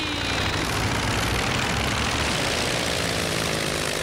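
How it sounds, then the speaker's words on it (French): A cartoon airplane's propeller engine drones steadily and loudly through its takeoff, with a constant broadband roar and no talk. "Vous êtes prêts pour le décollage?"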